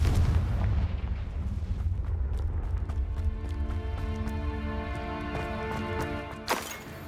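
A Confringo blasting spell explodes in the video game Hogwarts Legacy, giving a loud, deep booming rumble that trails off under a swelling musical score, then a sharp burst near the end.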